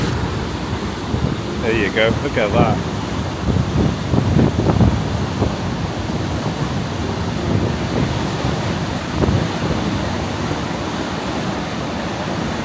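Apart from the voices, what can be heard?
water flowing through a hole in a dam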